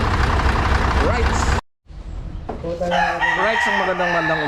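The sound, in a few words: rooster crowing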